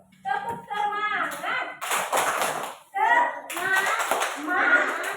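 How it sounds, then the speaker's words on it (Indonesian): Children in a classroom clap and chant a rhythmic cheer together, bursts of hand claps mixed with young voices shouting in unison, with short pauses between phrases. "Ayo kita tepuk semangat dulu. Tepuk semangat."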